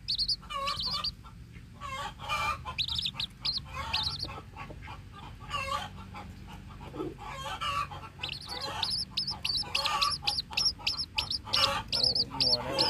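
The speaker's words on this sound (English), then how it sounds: "Other chickens are so loud right now." Several chickens cluck and squawk close by in busy, overlapping bursts, loud and continuous throughout.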